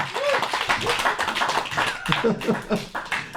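A church congregation claps rhythmically in praise, with steady close hand claps running throughout alongside voices.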